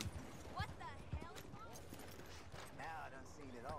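Horse hooves clip-clop through the streets of Saint Denis in the Red Dead Redemption 2 video game, a few soft, steady footfalls mixed under game voices and background bustle.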